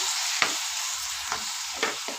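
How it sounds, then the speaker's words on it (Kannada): Potatoes with added water are stirred in a pan of tempering, a spoon scraping three or four times over a soft, constant sizzle, close and fairly quiet with no talk. "ನೋಡಿ 1 ಕಪ್ಪಷ್ಟು ನೀರು ಹಾಕ್ಕೊಂಡು ಚೆನ್ನಾಗಿದು ಮಿಕ್ಸ್ ಮಾಡ್ಕೋಬೇಕು"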